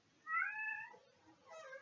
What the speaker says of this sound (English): That cat is definitely getting picked up by the audio